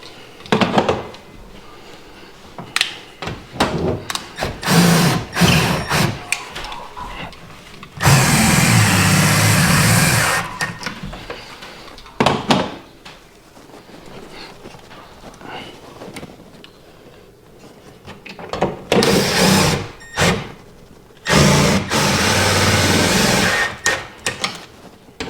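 Power drill driving screws to mount a Klipsch PRO-16RW in-wall speaker into sheetrock, heard as two loud sustained bursts of whirring, with brief knocks and handling noise between them.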